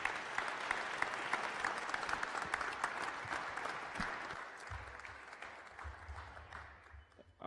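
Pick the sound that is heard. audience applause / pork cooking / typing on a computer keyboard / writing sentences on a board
audience applause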